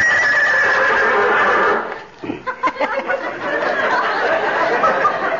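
A horse whinnies loudly as a radio sound effect, a long bright neigh followed by a brief pause and then a second sustained whinny with sputtering snorts.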